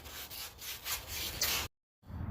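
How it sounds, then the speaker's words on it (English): Sanding rasps close up in rhythmic back-and-forth strokes on a brake rotor mount of an 84 C10 pickup, then cuts off abruptly into brief silence before resuming. "I'm gonna sand it down some more."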